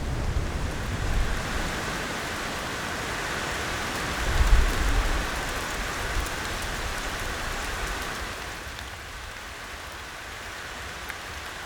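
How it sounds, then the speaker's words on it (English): Steady rain falls close by, a dense hiss of drops on surfaces, with a low rumble swelling briefly before easing. "Oh, here comes the rain."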